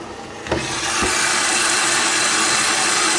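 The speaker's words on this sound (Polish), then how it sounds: "W tej chwili pralka nalewa wody" An Electrolux EWS 11277FW washing machine in service mode fills with water: after a couple of clicks comes a loud, steady broadband hiss of water rushing in, continuous and close.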